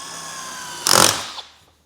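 A short, harsh burst of a power drill boring a starter hole in a speaker cut-kit template on a Harley Street Glide, about half a second, then winding down with a small catch before silence.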